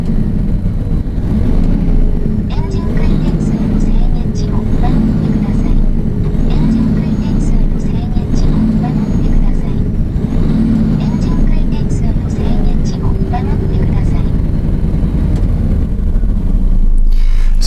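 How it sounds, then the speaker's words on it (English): A Japanese commercial truck engine rumbles close and loud, with its deep drone swelling and easing in waves as the accelerator pedal is pressed repeatedly. "Let me press the accelerator pedal to see the movement."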